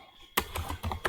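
Quick typing on a computer keyboard while entering a web address, with a short burst of clicky keystrokes close by after a brief quiet start.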